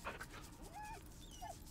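Dog whimpering in the Baldur's Gate 3 video game, a few soft high whines over a low background game ambience, with no one talking.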